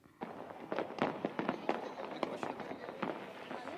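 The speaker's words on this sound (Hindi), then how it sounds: "अब जो है आसमान में लगातार टिमटिमाते हुए आतिशबाजी नजर आ रही है" Fireworks bursting during Makar Sankranti festivities in Jaipur, a steady run of sharp crackling pops and bangs at irregular intervals, moderately loud over a constant outdoor hum, with faint voices in the background.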